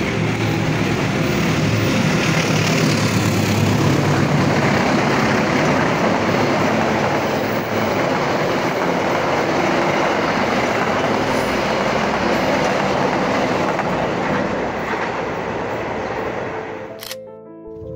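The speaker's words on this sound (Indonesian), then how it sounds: "selanjutnya dari arah barat kereta api Argo Parahyangan dengan nomor K38 yang sudah terlihat keretanya" The Argo Parahyangan passenger train rolls past at Padalarang, a loud, continuous rush and rumble of wheels and carriages close by for many seconds, ending in a crisp camera shutter click.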